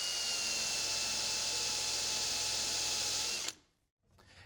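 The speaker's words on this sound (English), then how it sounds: "I'm going to drill a shallow counterbore for the head of that screw." A power drill whines steadily at high speed while drilling a shallow counterbore for a screw head, then cuts off abruptly and briefly spins down before a faint hum returns.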